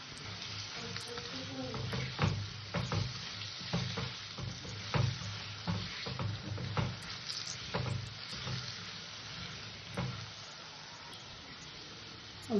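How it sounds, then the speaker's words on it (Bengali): Long-cut potato slices frying in oil in a pan, a soft steady sizzle broken by repeated scraping stirs at an irregular rhythm, fairly quiet and close. "আলু কটাকে একটু ভেজে নেব"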